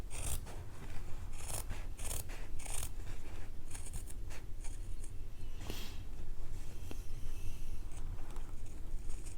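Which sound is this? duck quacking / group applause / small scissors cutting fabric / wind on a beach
small scissors cutting fabric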